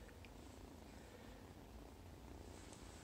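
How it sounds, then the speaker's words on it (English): Kittens about eleven weeks old, former strays, purring close by: a steady low rumbling drone that runs without a break and stays fairly soft. "Lots of purring going on, I don't know if you can hear it."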